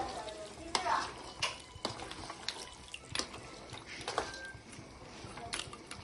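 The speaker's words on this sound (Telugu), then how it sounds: "చింతపండు రసం వేసి ఇలా కలపాలి మొత్తం." Tamarind juice is stirred into goat head curry in a pan, giving quiet, soft wet stirring and scraping with faint sizzling and occasional clinks, fairly close and without clear speech.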